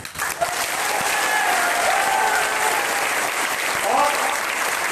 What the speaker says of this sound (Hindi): तालियां बजनी चाहिए। पर बजा के दिखाइए।